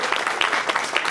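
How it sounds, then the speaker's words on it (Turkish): Audience applause at a Turkish association program in Sincan, a dense, steady clatter of many hands clapping throughout with no voices over it. "Bu alkışlar sizin için değerli başkanım."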